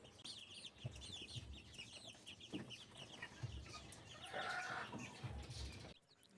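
Chicks in a brooder at a gamefowl farm, a busy chorus of high peeping and chirping with soft clucks and light shuffling, fairly close and continuous before fading out abruptly.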